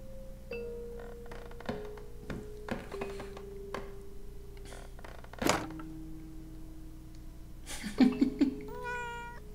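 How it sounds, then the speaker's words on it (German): Cat meows in the horror game Layers of Fear: Inheritance, a short cluster of several clear, fairly close meows near the end, after quieter ambient game sounds and scattered thumps. "Wo ist denn die Katze wieder?"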